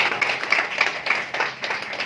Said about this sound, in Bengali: জোরে একবার হাততালি